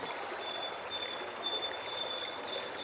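Several streams of water join together, flowing and trickling in a steady broadband wash with faint high bird-like whistles above, continuous and fairly close with no voices.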